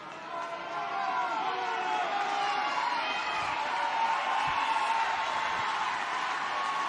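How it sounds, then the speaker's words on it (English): Rugby stadium crowd at a Women's Six Nations match between Ireland and France, a broad sustained roar of cheering from a large crowd at a distance, swelling steadily throughout. "And again, the crowd responds."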